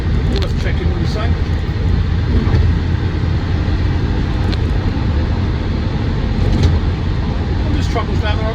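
Diesel engine of a Land Rover Defender 110 TD5 double cab with an R380 gearbox, a steady loud drone mixed with road noise while driving, with someone talking over it throughout.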